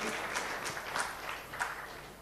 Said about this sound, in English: Big round of applause for our President.